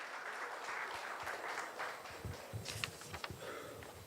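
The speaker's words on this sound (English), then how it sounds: "Let's give a round of applause for our guest of honor" Faint applause from an audience at an international research conference for the guest of honour, a soft, distant wash of clapping that thins out toward the end with a few scattered louder claps.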